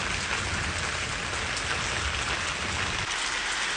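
Steady, dense rain pours down onto a garden surface, a close, continuous hiss of drops with no pauses, heard alone without voices.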